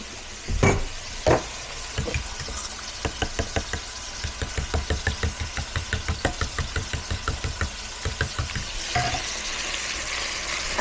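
Bacon, chicken gizzards, chicken hearts and beef frying in a pan, a steady sizzle under a long run of regular knocking and scraping stirs, with a couple of louder bangs at the start.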